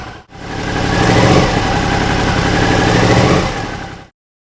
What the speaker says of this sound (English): Run the engine and let it run until the fan kicks in